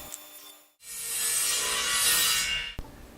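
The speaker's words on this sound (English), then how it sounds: "I set it up on the table saw and I keep running it through and flipping it" A table saw cutting a groove through a wooden board, a bright, loud rasping whine that starts abruptly and holds for about two seconds before stopping with a short thump.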